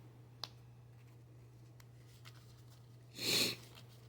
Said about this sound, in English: I'm just sniffling